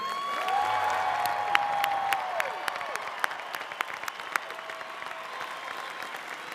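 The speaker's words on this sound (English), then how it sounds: "Now let's give one last round of applause to all of our graduates." Graduates at a spring university commencement ceremony receive a sustained, dense round of applause from a large crowd, with scattered sharper claps standing out and a few cheers near the start.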